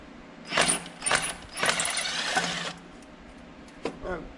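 Impact wrench on the last exhaust manifold bolt of a Case 305, heard as several short close bursts of mechanical rattling, with a longer run in the middle and a brief burst near the end.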